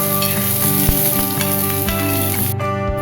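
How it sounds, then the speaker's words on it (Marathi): Onion, garlic and ginger fry in a pan for Kolhapuri misal, a steady loud sizzle with a few stirring scrapes and clinks, and no voices. "लसूण आणि अद्रक या कांद्यामध्येच टाकून भाजून घ्यायचं आहे।"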